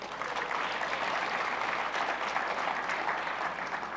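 Steady applause from a conference audience during a technical talk about building a conversational bot, a dense, even wash of clapping at moderate level for the whole stretch.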